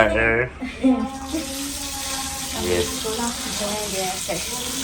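Tap water runs steadily into a sink as vegetables are rinsed in a home kitchen, a continuous close splashing stream with a person talking over it throughout.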